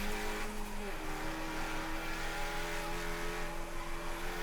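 A race car at Summit Point charges uphill on the last lap while defending first place in a Labor Day 2015 race. Its engine drones loud and steady, with a slight pitch shift near the start.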